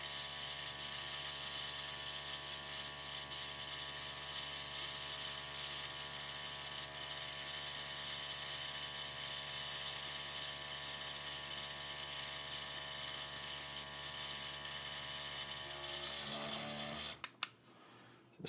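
A cheap airbrush bought on Amazon sprays paint with a steady, even hiss and a constant mechanical hum from its compressor, running unbroken and close for many seconds before cutting off abruptly near the end.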